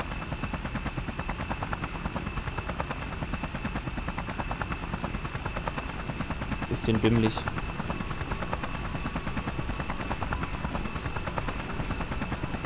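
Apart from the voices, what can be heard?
helicopter flying in video game Just Cause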